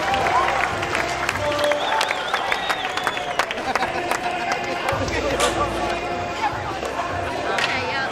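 Crowd at a Dew Tour skateboarding contest cheering and clapping in a loud, continuous roar, with scattered whoops and board clatter, while a commentator talks over it.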